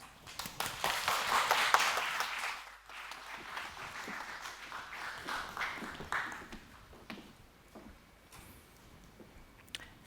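An audience at a Nexon capital markets briefing applauds to welcome a speaker. A full, loud burst of clapping in the first few seconds thins into sparse, fading claps.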